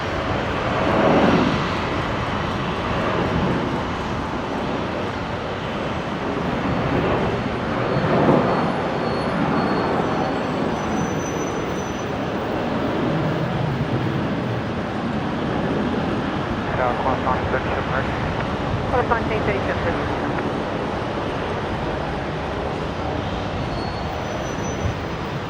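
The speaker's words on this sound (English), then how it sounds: "Qantas 631 here, the 737 off to Melbourne from 19 left." A Qantas Boeing 737 takes off from runway 19 left at Brisbane bound for Melbourne, its engine rumble building and swelling at mid-distance while someone talks over it at intervals.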